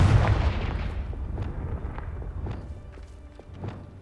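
A Confringo fire spell cast in Hogwarts Legacy, opening with a deep booming blast that rolls into a rumbling tail scattered with small thuds and crackles, loud and close, no talking.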